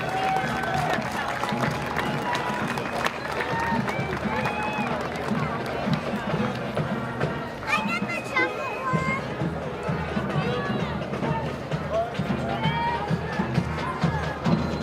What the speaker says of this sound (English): let's give another round of applause to all our active military duty personnel serving you